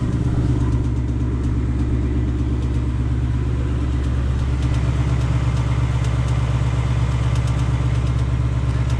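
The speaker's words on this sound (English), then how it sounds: "the engine tick, which I will leave footage of right here" A 2020 Ford Mustang GT V8 idling up close with a reported engine tick, a loud steady rumble layered with a fast, even ticking that runs throughout without any talk.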